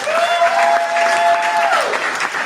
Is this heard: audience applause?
yes